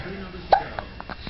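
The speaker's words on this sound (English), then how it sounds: "Yeah, those darn hiccups." A single sharp, close hiccup, followed by a few fainter catches of breath in a quiet room.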